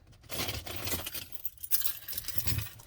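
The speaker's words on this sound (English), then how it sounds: "Let me get my keys." A bunch of keys is picked up from a surface at home, giving a quiet metallic jangle of small clinks and rattles close by.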